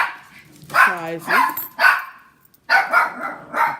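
A pet dog barks a few times nearby indoors, short loud yaps mixed in with someone talking steadily over them.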